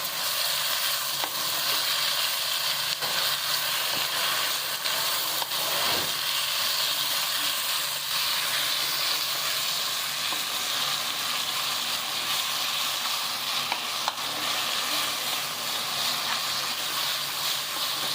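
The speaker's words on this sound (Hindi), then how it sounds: "तोरी को ऑयल में फ्राई कर लेंगे।" A kilo of ridge gourd is frying in oil, giving a constant broad hiss of sizzling that holds at an even level throughout, with only a few faint knocks.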